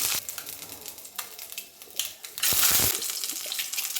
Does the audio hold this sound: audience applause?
no